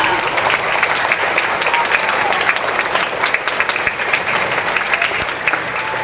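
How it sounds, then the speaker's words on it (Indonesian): Applause for teachers at a school ceremony marking the PGRI teachers' association anniversary, a dense crowd clapping steadily and loudly throughout with a faint murmur of voices. "Tepuk tangan buat guru Indonesia"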